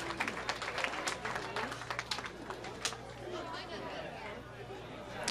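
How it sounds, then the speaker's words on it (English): Spectators at a college bowling match play competition clap in scattered bursts over a steady background hum and hall chatter. The claps thin out toward the end of the clip. "let's give these collegiate teams a big round of applause as they continue their match play competition"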